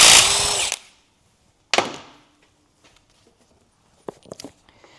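A power tool whirs in a loud burst, then a second shorter burst as bolts are removed from an 80 Series Land Cruiser front differential, followed by quieter metallic clicks and taps.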